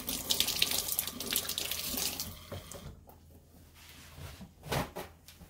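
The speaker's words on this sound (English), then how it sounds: "wash your hand before you touch food or to touch your food, any kind of food" Hands being washed under a running kitchen tap, a steady splashing stream that thins out midway, then a brief louder gush near the end, close by.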